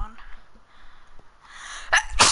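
A single sharp sneeze bursts out loudly near the end, after quieter background chatter from a Minecraft mini-games session.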